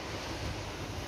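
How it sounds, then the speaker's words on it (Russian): Steady, strengthening wind rushes over the Odesa seaside during a storm, blending with the wash of surf in a constant, fairly soft roar. "Но ветер усиливается."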